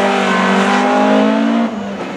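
A veteran driver's race car screams up a hill climb course at a Norwegian championship, its engine holding a steady high-pitched roar near the listener before the note drops and fades slightly as it pulls away.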